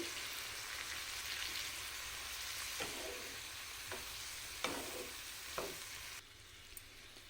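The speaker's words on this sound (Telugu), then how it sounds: "కొత్తిమీర చింతపండు వీటిని కూడా వేసుకొని ఒకసారి బాగా కలుపుకోవాలి" Coriander and tamarind being stirred into a chutney mixture in a hot pan, with a continuous soft sizzle and a few distinct scraping strokes of the spoon, close up and without speech.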